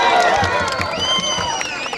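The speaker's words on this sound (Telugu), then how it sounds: "మరి అందరూ కూడా క్లాప్స్ పెట్టి" A crowd at an outdoor rural political visit cheers and claps after a ceremonial ball throw, loud and continuous, with voices mixed into the noise.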